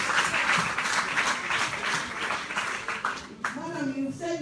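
Applause for the first lady at a formal gathering: dense, steady clapping from a crowd fills the moment, then fades as a voice begins speaking over its tail.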